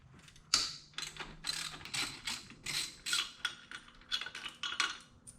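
Socket wrench ratchet clicking in quick repeated bursts while loosening an alternator cover bolt on a Subaru STI, close and crisp with short pauses between strokes.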